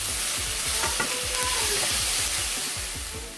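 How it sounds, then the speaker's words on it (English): Onion and pimento peppers sauté in a pan. A loud continuous sizzle is broken by rhythmic spatula scrapes throughout, with no talking. "Next goes in some pimento peppers. And we want to cook this until it's translucent or tender."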